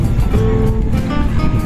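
A fishing boat's engine, heavily loaded with catch, running with a deep, truck-like diesel rumble, loud and steady through a short stretch.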